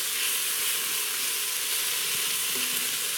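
Smoked chorizo fries in a pan with a loud, steady, close sizzle that hisses continuously throughout, with no voices.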